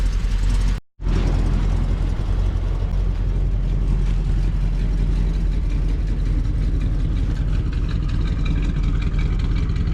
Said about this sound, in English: Honestly, that engine sounds just fantastic. It's a good runner.